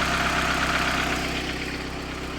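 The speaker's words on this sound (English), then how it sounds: "Once your engine runs in, I find that they idle a little bit slower on vapor" Four-cylinder car engine idling on fuel vapour after being run in, a steady, close, slightly slow rumble with a faint knocking texture, holding evenly alone with no talk.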